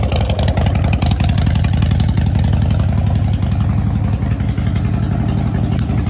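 A 2017 Harley-Davidson Low Rider S with a Vance and Hines exhaust idling after a cold start, a loud, close, deep and lumpy rumble with a steady uneven thump.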